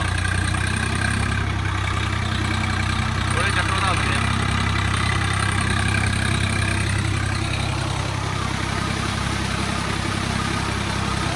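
A heavy tractor engine drones continuously under full load while puddling a wet mung bean field, a deep low rumble working steadily close by while a voice speaks briefly over it.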